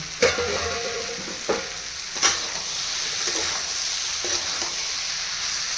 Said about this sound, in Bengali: এবার আমি আলুটা দিয়েও কিছুক্ষণ নাড়বো।